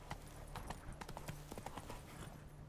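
Roach, the horse in The Witcher 3, gallops in a quick, steady drumming of hooves, close and continuous for the whole stretch, with no one speaking.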